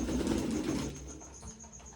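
Pigeons perched on a rooftop loft umbrella give soft, low cooing calls close by, with a brief rustle of wings early on, then quieter coos trailing off.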